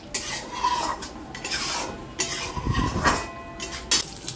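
Vegetables are stirred in ghee in a pan on a gas flame, with pointed gourd among them; a spoon scrapes and clinks against the pan in irregular strokes over a soft sizzle, no speech.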